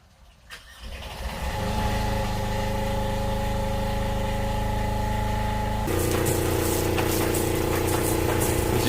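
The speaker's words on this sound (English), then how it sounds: "I'm gonna let the generator run for a while" A boat generator engine starts up and settles into a steady, loud running drone, its pitch shifting slightly partway through, just after an impeller and water pump service with the fuel system bled.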